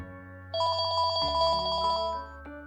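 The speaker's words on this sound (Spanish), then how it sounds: "Una madrugada sonó el teléfono." Telephone ringing with a warbling electronic tone, a steady trilling ring lasting about a second and a half over a sustained low musical background, fairly clear and close.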